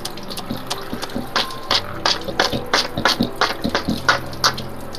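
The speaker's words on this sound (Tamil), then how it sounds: "இப்போ நான் கழுவ போகிறேன்." Water runs and splashes over an action camera as it is washed by hand, a steady broadband gush broken by uneven spattering bursts as the flow hits the casing, close and fairly loud with no talking.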